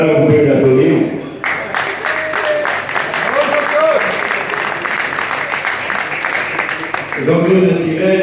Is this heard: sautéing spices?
no